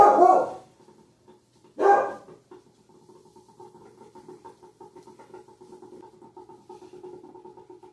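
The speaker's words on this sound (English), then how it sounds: "I don't know what in the world she is barking at" A dog barks twice, sharp and fairly close, then quieter yips and whimpering continue in the background.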